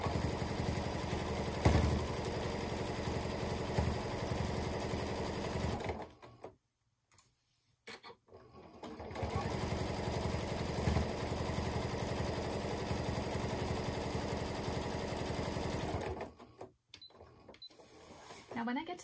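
A sewing machine runs in two long stretches, stitching binding onto a pillow with a hidden zipper, with a brief pause between runs and someone talking over the machine.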